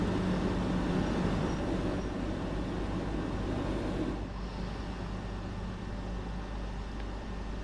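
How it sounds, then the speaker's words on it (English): Train in the Train Sim World video game braking to a stop, a steady low rumble and rolling hum that eases off about halfway through and settles into a quieter idle drone, with no talking. "then it will stop the train"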